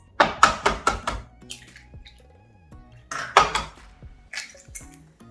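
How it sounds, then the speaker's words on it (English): Eggs cracked against a hard edge while making perilla leaf pancakes, two clusters of sharp close taps and knocks with brief wet drips between, separated by quiet. "we're gonna just break the eggs."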